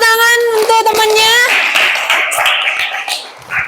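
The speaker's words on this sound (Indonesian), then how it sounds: "tepuk tangan untuk temannya" Classroom applause for a student group that has just finished presenting, a dense patter of hands after a brief spoken voice at the start, continuing steadily and fairly close until the end.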